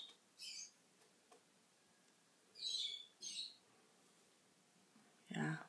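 Pet lovebirds giving short, bright chirps and a few squeaky calls in separate bursts, close and fairly faint in a quiet indoor room.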